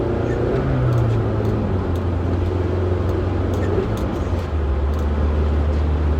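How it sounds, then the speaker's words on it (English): A car engine drones loud and close, its low pitch climbing as it accelerates, with a steady rumble of road noise and no voices. "I just like accelerating so much."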